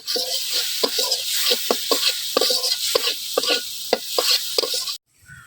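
Close, steady sizzling of turmeric, chili and salt being fried in a pan for tamarind fish curry, with a spoon scraping and stirring at regular intervals. The sound cuts off abruptly just before the end.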